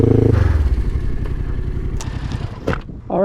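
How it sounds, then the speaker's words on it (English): A 2006 Kawasaki Ninja 500R fitted with an aftermarket exhaust, idling loud and close with a steady throbbing rumble, then blipping briefly toward the end. "This bike has aftermarket exhaust."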